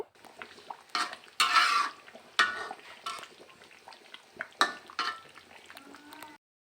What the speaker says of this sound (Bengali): মশলার মধ্যে আমার মাংস দেওয়া কমপ্লিট এখন আমি একটু নেড়ে চেড়ে দিচ্ছি